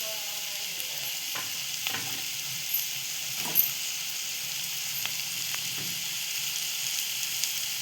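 A pan of prawn curry sizzles quietly while drumstick pods are added and stirred in, soft steady frying hiss with a few faint scrapes and taps, fairly low in level, no talking.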